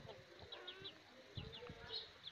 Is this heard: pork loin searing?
no